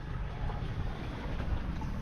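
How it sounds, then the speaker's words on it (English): Wind rushing over a sailboat under full sail with no engine running, a steady low roar and buffeting close to the microphone, fairly faint and continuous. "So here we are, under full sail."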